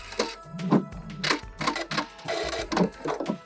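A sewing machine stitches the side seam of an upcycled fabric gift bag, running in short mechanical bursts with pauses and clicks close up, no voices.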